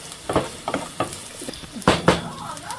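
Spoon scrapes and clatters in a pan as panch phoron spices and garlic fry, several sharp stirring strokes over a light sizzle, close and irregular.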